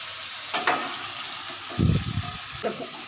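Paneer going into a spiced vegetable curry with potato, cauliflower and peas, heard as a steady sizzle broken by a few louder bursts of stirring and bubbling.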